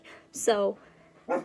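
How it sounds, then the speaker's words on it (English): Pet dogs bark indoors in a home, a short yelping bark breaking through between bits of a person's speech, fairly close and moderately loud. "If you hear my dogs barking every now and then"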